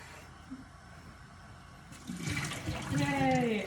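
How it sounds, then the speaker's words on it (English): Tap water runs and splashes as a dish is rinsed in a sink, starting quiet and swelling into a steady close gush after about two seconds, with faint voices underneath. "So you want to rinse it all off."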